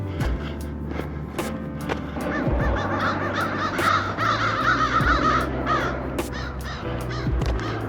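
Several crows caw loudly and repeatedly, harsh calls overlapping one another outdoors over a constant background rumble.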